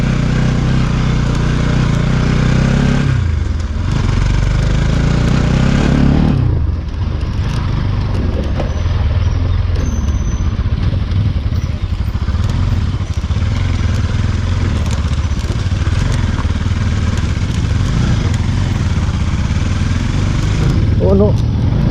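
Motorcycle engine running steadily and loudly on a slippery trail near Sundarijal, a continuous close rumble with a brief dip midway, while a rider's voice talks over it.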